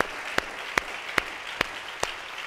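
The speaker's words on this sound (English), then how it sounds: "Clap your hands to the Lord." A church congregation claps hands in praise. Five crisp claps land in a slow, even beat with a faint room hum between them.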